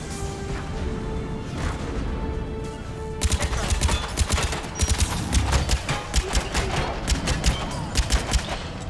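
Rapid gunfire crackles in the video game Mass Effect 3, a dense burst of repeated shots following a sudden loud onset, with a faint electronic tone beneath.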